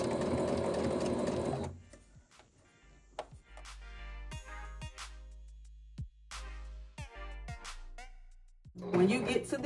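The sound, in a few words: sewing machine stitching the hood of a tapestry hoodie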